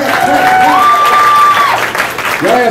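Comedy club audience clapping, loud continuous applause with a voice and some tonal sounds riding over it.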